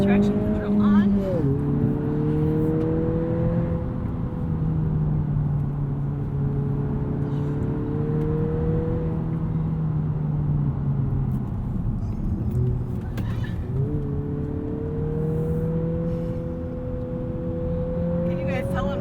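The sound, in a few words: 2020 Honda Civic Si engine driving the Tail of the Dragon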